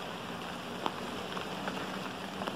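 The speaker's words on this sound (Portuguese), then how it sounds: "Um dia chuvoso aí, pessoal. Desde cedo aí chovendo." Steady rain falls on a wet tropical backyard with banana leaves, a soft continuous patter with a few louder drips and drops standing out, no voices.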